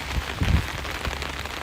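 Heavy rain pouring steadily outdoors, a dense continuous hiss with scattered patters of drops striking surfaces, loud and close with no voices.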